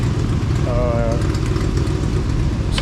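A 1956 Plymouth Savoy engine, running rich while warming up, idles loudly and steadily with a rough, throbbing low rumble throughout, a brief whine rising over it partway through.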